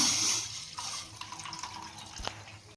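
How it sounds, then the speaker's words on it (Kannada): Water splashes and trickles steadily into a glass for a few seconds, close by, with no voices. "ಈಗ ನಾನು 1 ಗ್ಲಾಸ್ ಅಷ್ಟು ನೀರು ಹಾಕ್ತಾ ಇದ್ದೀನಿ."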